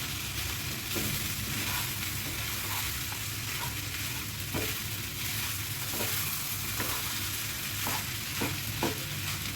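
Fried rice is tossed and mixed in a hot pan, giving a dense, continuous sizzle with light periodic scrapes of the spatula, steady and close throughout.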